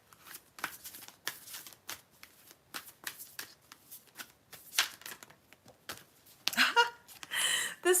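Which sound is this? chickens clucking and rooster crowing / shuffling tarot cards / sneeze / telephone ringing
shuffling tarot cards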